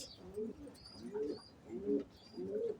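Short face pigeons coo softly in a loft, four evenly spaced low, rolling coos in quick succession, quiet and close, with faint chirps in between.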